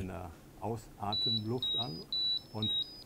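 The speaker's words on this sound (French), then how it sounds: "L'alarme se déclenche alors de manière très audible." Short electronic beeps from a gas detector alarm, triggered by exhaled breath, repeat at a steady pitch in a quick pattern while someone speaks over them.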